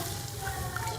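Water is poured into hot ghee and masala for a dal kofta curry, giving a steady close sizzling hiss that fills the short moment without pause.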